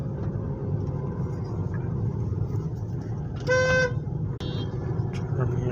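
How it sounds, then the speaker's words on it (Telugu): Cars and traffic rumble along the Shamshabad international airport approach road, a steady low drone with a short car horn toot near the middle and another brief honk shortly after. "చూడండి ఎట్లా వెళ్తున్నాయి కార్లు"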